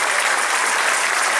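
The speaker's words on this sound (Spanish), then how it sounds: "a nuestro técnico Jesús Mendoza, para que le dé un fuerte aplauso" Dense, steady audience applause at a live evening show or party fills the whole moment evenly with loud clapping from many hands.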